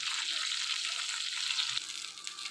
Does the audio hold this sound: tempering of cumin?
yes